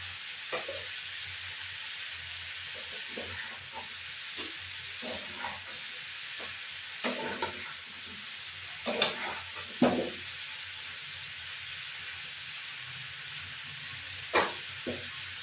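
Fish, likely prawns, fry in a pan after being seasoned with salt and turmeric, giving a steady low sizzle broken by several short bursts of stirring and scraping, with no voices.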